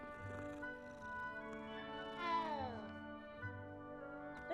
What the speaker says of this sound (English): Found the cat.